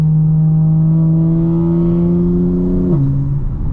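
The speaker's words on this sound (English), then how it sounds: "There's a lot of air intake noise when you close the valves." A 2025 BMW M4 Competition engine drones loudly at steady revs in sport mode with exhaust valves closed, then the pitch drops sharply as the throttle eases, with a strong intake rumble close by.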